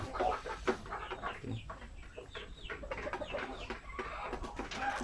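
Native chickens on a small farm cluck repeatedly and irregularly, several birds close together with short overlapping calls that continue throughout.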